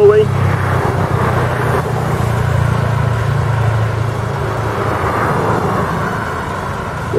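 Buses moving on the Via Anhanguera highway in Brazil: continuous loud low engine and road roar from passing heavy traffic, steady throughout with no clear gaps.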